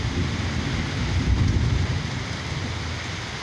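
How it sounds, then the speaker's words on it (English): Heavy rain pours down in a steady, dense roar during a storm in Georgia, with a low rumbling swell in the middle and no voices. "it is raining hard out here now."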